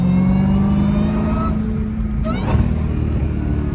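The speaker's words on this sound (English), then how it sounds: "The car sounded good though." A Dodge SRT Hellcat engine revs hard and accelerates up close, a loud steady drone that climbs in pitch, drops sharply at a shift, then pulls again.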